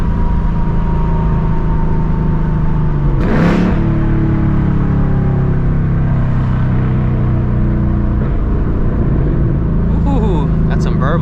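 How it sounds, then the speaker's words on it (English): S650 Mustang GT with stock active exhaust, a loud steady engine drone in the cabin with a rising rev and faint crackly burbles near the end, while a voice talks over it. "Ooh, got some burbles."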